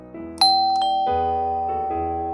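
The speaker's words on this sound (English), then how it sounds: "Harry took a deep breath and rang the doorbell." A two-tone ding-dong doorbell chimes once in The Sims 3, clear and close, with the second note ringing out and slowly fading.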